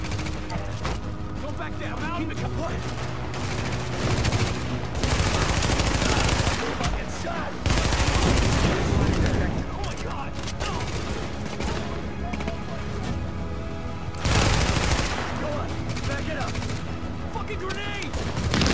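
Automatic gunfire in the video game Tom Clancy's The Division during a precinct siege, with rapid bursts and heavy volleys that swell loudly at several points over steady combat background.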